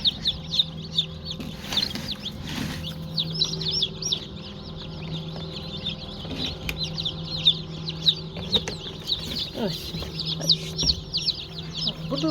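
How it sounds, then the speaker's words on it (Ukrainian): Many chicks peep constantly in a high, faint chorus, with a low hum and occasional handling noises beneath. "вибрала я курчаток, один ящик і другий ящик"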